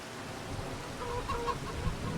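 Chickens cluck softly inside a coop in Farming Simulator 25, a few short calls rising over a steady low farmyard ambience with no talking.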